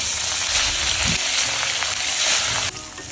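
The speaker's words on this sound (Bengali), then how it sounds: "গরম হয়ে গেছে আর মাছ মাছগুলো দিয়ে দেবো" Pieces of rohu fish, rubbed with turmeric and salt, fry in hot oil in a pan with a loud, close, continuous sizzle and crackle, and a brief stirring noise; no one speaks.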